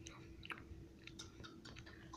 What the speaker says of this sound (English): Sorry for chewing with my mouth open.